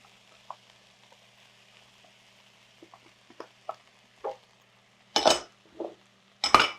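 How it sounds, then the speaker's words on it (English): Mushrooms hitting a hot frying pan in a home kitchen, bursting into sharp sizzles after a few faint clinks and taps of utensils, the sizzle flaring loud in two short bursts. "I'm gonna add in my mushrooms."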